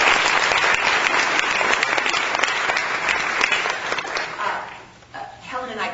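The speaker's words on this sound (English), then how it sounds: "please join me in a round of applause for them" A crowd at an awards ceremony gives a hearty round of applause for the event's co-chairs, a dense sustained clapping that thins and fades near the end as a voice begins to speak.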